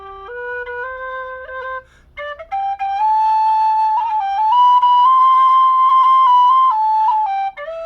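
An alto G whistle made by Sergey Vertletskii of dudukoid in Russia plays a solo melody of sustained, clear notes, close and steady, with a brief pause near the start before the tune resumes.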